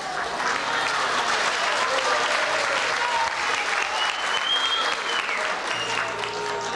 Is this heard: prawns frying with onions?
no